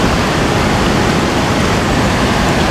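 The Khardu river near Dharan runs strong and swollen after rain, giving a dense, steady roar of rushing water close by without a break.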